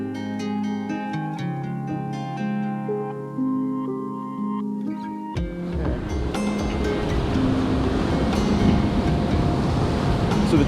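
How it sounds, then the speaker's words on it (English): Ocean waves surging and breaking against a rocky coastline on California's Central Coast, a loud rushing crash that swells after a stretch of music and stays close and continuous. "It's a big wave."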